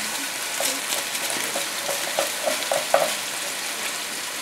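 Rabbit pieces browning in a pan for a Maltese pan-cooked rabbit dish, giving a steady close sizzle with light scraping and stirring clicks as they are turned, no talking.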